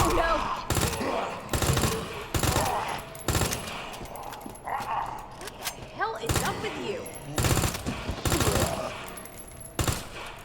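Gunshots in the zombie survival game Resident Evil 2, loud sharp blasts fired in spaced bursts of several shots with pauses between, while a player talks in between.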